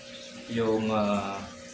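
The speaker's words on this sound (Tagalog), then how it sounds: "naka-waterfalls, continuous waterfalls siya" A continuous small waterfall splashing into an outdoor axolotl tank, heard as a close, steady trickle and gurgle that swells in the middle and then eases off briefly.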